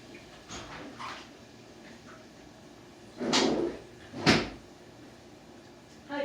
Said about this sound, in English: So I'm going to go open the door.